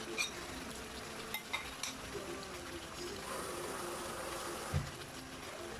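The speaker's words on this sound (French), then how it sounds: "Après, voilà, je mélange." A utensil stirs beaten crème fraîche with pepper and a splash of water in a bowl, giving soft wet scraping with a few sharp clinks against the rim, close and quiet, with no talking.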